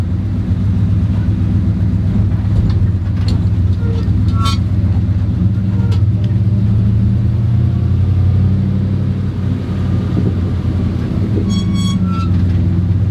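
A 1972 Ford F250 crew cab pickup climbing up a curb, its engine a loud, steady low rumble close by throughout, with a few brief clanks and squeaks over it.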